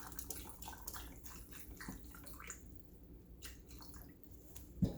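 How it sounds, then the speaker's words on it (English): Chicken broth poured into canning jars during home canning of cubed chicken, a steady liquid splash and trickle running throughout, close and moderately quiet, ending with a brief knock of jar or ladle. "Pour my chicken broth."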